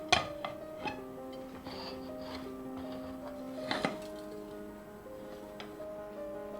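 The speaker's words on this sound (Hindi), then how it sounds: "इसके लिए मैं एक प्लेट यूज़ करूँगी जो इसके ऊपर रखकर इसको पलट लूँगी" A plate set over a pan of Gujarati handvo, a savory baked cake, is used to flip it, giving sharp ceramic and metal clinks and knocks at close range against a steady background tone.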